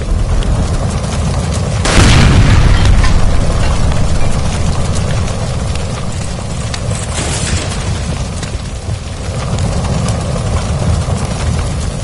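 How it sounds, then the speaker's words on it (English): A gas line explodes in the video game LA Noire: a loud sudden boom near the two-second mark that swells and then settles into a sustained roaring rumble, with no voices. "Shoot the gas line, Cole, we're out of here"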